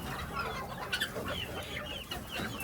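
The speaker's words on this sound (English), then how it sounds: "Look at all them guineas." Guinea fowl and chickens in a coop keep up a busy, close chorus of clucks and chattering calls, overlapping continuously at moderate loudness.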